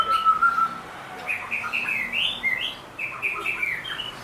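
A white-rumped shama (murai batu) sings nearby, with clear whistled notes followed by a run of quick, varied chirping phrases, bright and alone against a quiet background.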